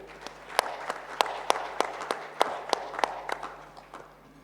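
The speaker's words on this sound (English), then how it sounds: "I think we should give ourselves a clap" Plenary session audience at a microfinance conference applauding: a thin, uneven patter of individual claps from a smallish crowd, fairly distant and soft, fading toward the end.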